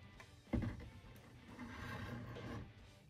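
The small saw blade of a Victorinox Huntsman pocket knife rasps steadily through dry wood, a sharp stroke near the start followed by continuous rough back-and-forth cutting, close and moderately loud.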